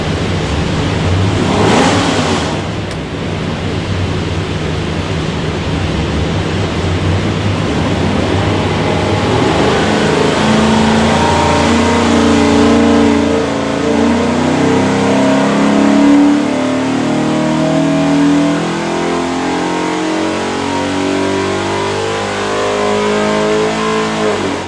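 A Ford 347 stroker with a Brawler carburetor and MSD Pro Billet distributor, built for a '65 Mustang, roars on a dyno. It revs up briefly, then pulls through a long, sustained climb in pitch, loud and close throughout.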